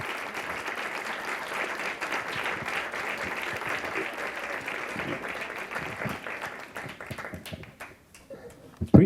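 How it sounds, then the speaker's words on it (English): Audience applause fills a school Founder's Day ceremony in a garden setting, a dense, sustained wash of many hands clapping that thins out near the end before a few louder close claps. "super big round of applause"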